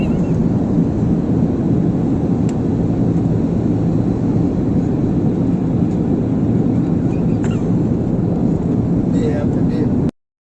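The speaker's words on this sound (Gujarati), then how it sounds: "પ્લેન નીચે ઉતરે છે ને" A plane landing on a Darjeeling trip gives a loud, steady, broad roar that holds unbroken for about ten seconds before cutting off abruptly.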